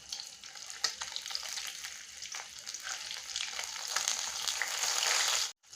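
Fish sizzling steadily in hot mustard oil after being flipped, a continuous close crackle with small pops that swells slightly toward the end before cutting off briefly.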